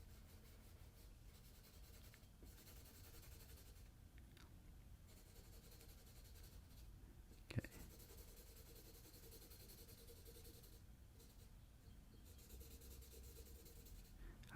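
Graphite pencil lightly rubs across paper in soft, continuous scratchy strokes, faint and close, with a brief tap partway through and no voices.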